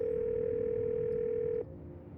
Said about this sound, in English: Call Stella.